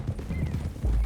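Horses' hooves clip-clopping in Red Dead Redemption 2 as riders head for the hills, a steady low thudding gait that carries close and fairly loud with a brief whinny-like tone in the middle.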